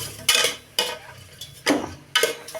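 Garlic and onion sauté in oil in a pan for pork sinigang, stirred in four distinct scraping bursts of utensil against pan, each followed by a soft sizzle in between.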